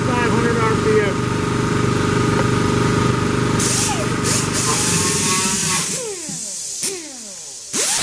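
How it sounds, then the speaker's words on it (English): Die grinder fitted with a wire wheel spinning at high RPM while working a 1969 Chevy C10 firewall, a loud steady whine that winds down near the end with a few brief restarts. "For this, these wires have a tendency to fling off. They run into the high RPM."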